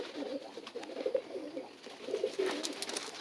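Pigeons coo softly in low, rolling calls that repeat throughout, fairly close, with a faint background hiss.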